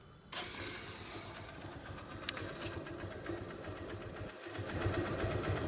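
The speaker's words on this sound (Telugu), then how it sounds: "ఒకసారి మీకు ఇంజిన్ బీటింగ్గా వినిపించేస్తాను." A 2007 Hero Xtreme motorcycle engine runs at a steady idle, a close, continuous mechanical chatter with a faint knocking texture. It starts abruptly after a brief quiet moment and swells slightly toward the end.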